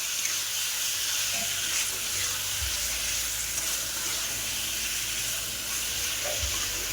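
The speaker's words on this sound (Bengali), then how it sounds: "ভালো করে নেড়ে চেড়ে ভেজে নিতে হবে।" Fried potatoes are stirred into spiced masala in a pan, giving a soft, even sizzle and hiss with occasional low thumps of the spoon; no voices.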